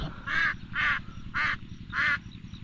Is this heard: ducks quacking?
yes